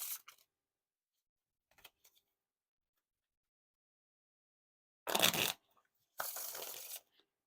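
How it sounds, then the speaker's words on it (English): Orbit Cardistry-Con Second Edition playing cards being riffled and bridged, with a few faint early flicks, then two distinct crisp riffle bursts about a second long in a quiet room. "So the riffle shuffles and bridge shuffles are pretty smooth now."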